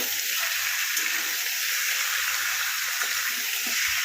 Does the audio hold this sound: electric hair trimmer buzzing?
no